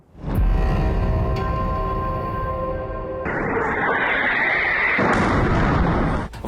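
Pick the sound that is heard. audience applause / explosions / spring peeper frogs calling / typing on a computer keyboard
explosions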